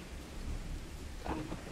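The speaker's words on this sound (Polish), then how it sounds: "Ty, piorun." Thunder from the Bigfoot video game rumbles under steady rain noise, with a louder crack and roll near the end of a short stretch.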